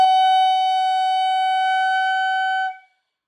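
A clarinet short horn sounds one steady, loud sustained note for under three seconds, then cuts off cleanly, played alone with no voices.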